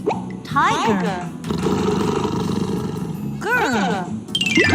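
A tiger roar rumbles through the middle, broad and steady, with a voice speaking before and after it that also imitates the growl.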